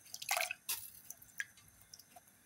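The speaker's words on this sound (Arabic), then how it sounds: "هنحدق ميه المكرونه" Cooking water poured off boiled pasta in a single pot while making Egyptian koshari, heard as a few brief splashy gushes and drips, close and fairly quiet, with no talking.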